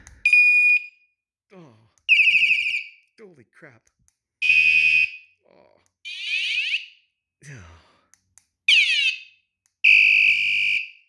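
Short bursts of a harsh, piercing electronic alarm from a pebl alarm system's remote bell repeat in an uneven rhythm, loud and close, with someone exclaiming between them.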